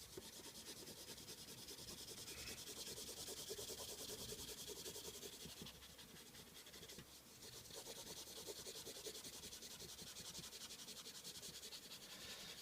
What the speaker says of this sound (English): So I'm gonna erase the pencil lines here.